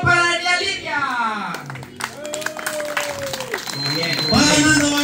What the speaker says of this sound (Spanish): ¡Aplauso para Daniela Lidia!